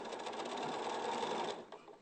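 A sewing machine whirs steadily and fairly quietly, its rapid mechanical stitching pulse continuous before trailing off at the end.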